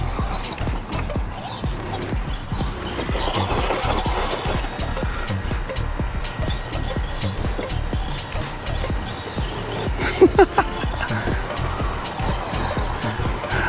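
An FMS 1:10 Ford F100 RC monster truck motor runs under strain on a hard surface, making a steady, close mechanical whir and grinding rattle that carries with little pause.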